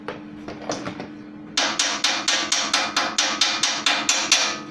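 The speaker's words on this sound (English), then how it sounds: "I'm cracking the shell of the oxidizer on the weld" A hammer chipping weld slag off a welded steel kit car frame for an electric build, a few softer taps and then a steady run of about a dozen sharp metallic strikes, loud and close.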